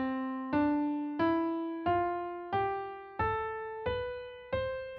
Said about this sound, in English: Ionian, is exactly the same as the major scale and sounds like this.